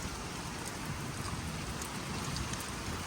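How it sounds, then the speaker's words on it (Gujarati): Heavy rain pours down steadily in Patan district, Gujarat, a dense, continuous hiss close at hand. "ધોધમાર વરસાદ વરસી રહ્યો છે"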